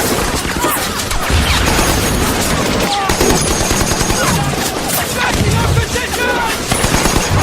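Heavy gunfire from a war film battle between American and Japanese soldiers, with dense machine-gun bursts and continuous rifle shots in a loud, unbroken barrage.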